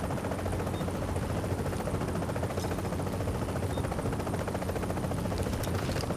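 A helicopter in Tom Clancy's The Division thrums steadily throughout a loud, dense game mix, its rotor wash blending with continuous rumbling noise and faint scattered crackles.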